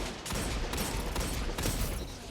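Luna's Howl, a precision-frame hand cannon in a video game, fires in a dense flurry of loud, overlapping shots amid continuous battle noise.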